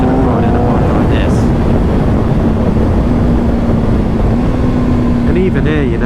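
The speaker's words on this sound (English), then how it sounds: "on a sport bike you want it to scream, you want to have to let the revs build" A 2025 Kawasaki ZX6R sport bike engine holds a steady, loud drone on the road, its pitch rising toward the end as the revs build, under constant wind rush.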